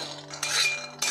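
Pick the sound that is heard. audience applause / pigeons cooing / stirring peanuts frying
stirring peanuts frying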